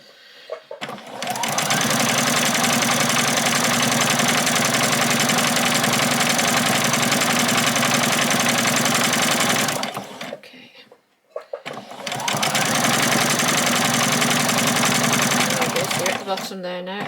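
A sewing machine stitching fabric for a doll's dress, running in a long steady whirring burst, pausing briefly, then starting again loud and close, with a voice speaking over it.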